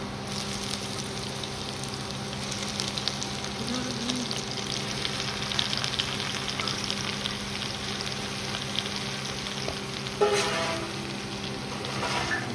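Bhujia sizzling and frying on an induction cooker run from a lithium battery, a steady crackle lasting throughout with a few louder spatters and stirring scrapes near the end.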